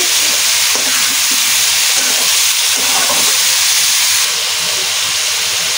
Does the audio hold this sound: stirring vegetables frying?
yes